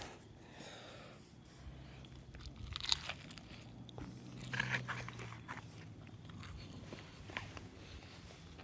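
Crunchy bites and chewing of crispy pizza outdoors on an overnight Appalachian Trail backpacking trip at Neel Gap, a few close crackling crunches amid quiet background, without talk.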